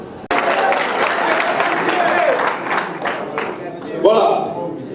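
An audience at a youth conference bursts into loud applause and cheers, starting abruptly. The clapping is dense and sustained, with whoops and voices rising through it and a cheer swelling near the end.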